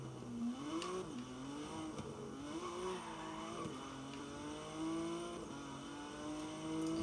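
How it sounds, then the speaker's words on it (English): A racing car from a video game car pack revving and shifting through gears, engine tone climbing and dropping in repeated sweeps, steady and moderately quiet, with no voices over it. "this car pack was definitely worth it, because the cars sound amazing"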